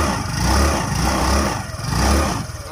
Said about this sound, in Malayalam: ആക്സിലേറ്റർ നല്ല റൈസ് ചെയ്യുക